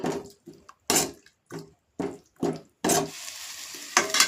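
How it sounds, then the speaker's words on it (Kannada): Two eggs are stirred into softened tomatoes in a hot pan for avalakki egg rice, heard as a series of short, close scraping strokes with spitting sizzle, ending in a longer sustained fry. "ಇದಕ್ಕೆ ನಾವು ಎರಡು ಮೊಟ್ಟೆನ ಹಾಕೊಳ್ತಾ ಇದ್ದೀನಿ ಇವಾಗ ಇದನ್ನು ಚೆನ್ನಾಗಿ ಹುರ್ಕೊಳ್ಬೇಕು"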